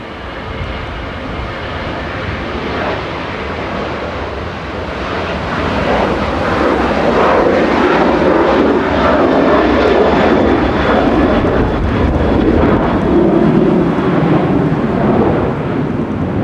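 A Ryanair airliner departs Manchester Airport, its jet engine roar building steadily into a loud, sustained broadband rumble that swells and holds through the second half, with no voices.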